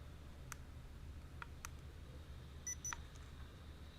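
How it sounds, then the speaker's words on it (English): A small electronic device beeps as it is switched on, giving a few short, faint, high beeps scattered over a quiet hum, with a brief double chirp toward the end. "turn this little bad boy on. And hear the beep beep that I'm known for."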